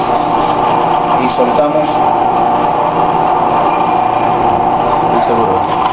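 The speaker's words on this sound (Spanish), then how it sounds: "Se procede a encender. Comienza a trabajar el grano." A Fischer Agro coffee grinder hums and rattles steadily at close range as it grinds coffee beans, and a voice speaks briefly over the running motor.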